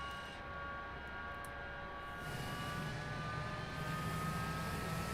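Jet engines spool up in a flight simulator game, a steady rising whine and roar that swells slightly louder partway through, with no talking.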